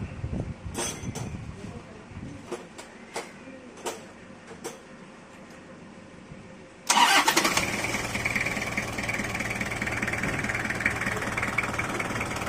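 A vehicle engine is started after a tappet adjustment. Several sharp clicks come first, then the engine catches abruptly and settles into a loud, steady, close idle. Faint voices sound in the background.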